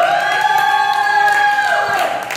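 A church congregation cheers and applauds together, a sustained wash of voices and clapping, with a sung or shouted tone running above it before it tapers off.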